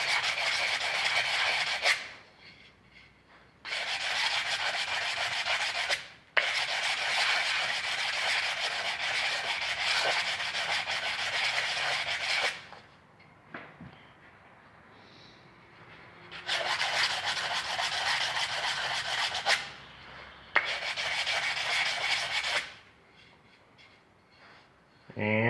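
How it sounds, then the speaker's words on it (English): Hand sanding of wood with 150 grit sandpaper while making an urn: steady, loud, raspy rubbing strokes in long bursts with brief pauses between them. "I'm using 150 grit here. Well, that's what the whole thing is sanded to,"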